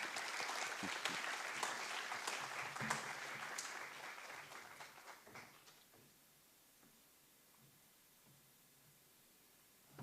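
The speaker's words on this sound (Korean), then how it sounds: "박수로 환영합니다." Audience clapping welcoming a speaker at a Korean humanities and spirituality lecture, a dense burst of applause lasting several seconds before fading out to near silence, then a faint click at the very end.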